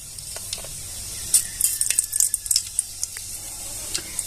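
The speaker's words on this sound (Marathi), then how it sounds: "जिरे मोरी चांगली तडतडली" Seeds crackle and pop sharply in hot oil, a quick irregular patter of small bursts over a steady sizzling hiss.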